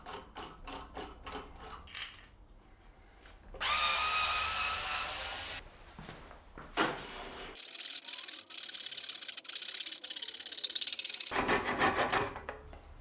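A power tool cuts off the old mechanism of a DIY mountain bike work stand in several loud, harsh bursts of grinding and whining with abrupt stops, mixed with clattering handling noises at close range.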